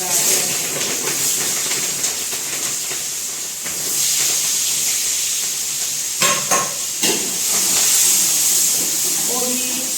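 Green beans hit hot oil with a broad, steady hiss that runs throughout, with a couple of sharper sizzling bursts partway through and faint kitchen clatter, as vegetables are fried for pulao.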